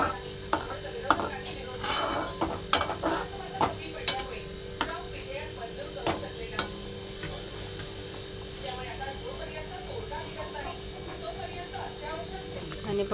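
Bhagar (barnyard millet) stirred with salt in a pot, giving repeated light scraping and clinking of a utensil against the metal at an irregular pace, close and fairly quiet under steady background noise.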